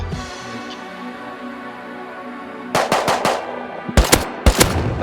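Loud bursts of automatic gunfire from the video game Rust, arriving in two clusters of rapid shots after a few seconds of low ambient game hum, with no talk over them.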